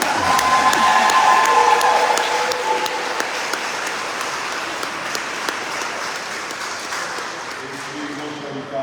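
Applause at a gun violence press conference at the state capitol, sustained clapping from a crowd in a room that gradually thins out and fades, with a voice talking faintly beneath it.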